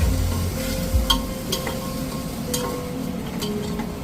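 Vegetables for samak khichdi sizzle steadily in a pan as they are stirred, with soft scraping strokes and a few brief clinks of the utensil against the metal, continuous and close with no voices.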